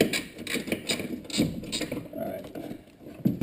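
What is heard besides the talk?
removing bolts with a ratchet during a rear bumper install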